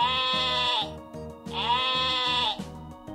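A sheep bleats twice, two long wavering calls about a second each with a short gap between, loud and close over a repeating low-pitched background pattern, with no speech.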